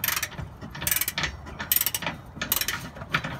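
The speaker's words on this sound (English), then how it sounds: "Okay, so I have the bolt tightened up just enough that we now need the torque wrench to get the proper torque on it." Ratchet wrench tightening a trailer hitch bolt on a 2017 Honda Pilot, a rapid clicking ratchet in quick bursts of several strokes, close and fairly quiet, with no talk.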